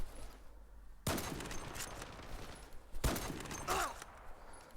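Gunfire in the online shooter game Zula Strike, with two loud broadband bursts of shots, each a sudden onset followed by a rattling decay, after a quiet opening.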